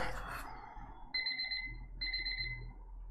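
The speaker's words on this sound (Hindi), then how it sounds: "चलो अलार्म बेल बज गया" An electronic alarm bell rings in two short, high, buzzing bursts about a second apart, faint and thin against a quiet room.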